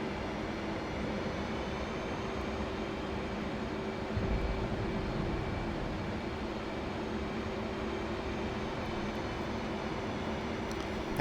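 USAF F-15E Strike Eagle flying low and tight through valleys and over a town in a DCS simulation, a steady broadband engine roar held evenly throughout.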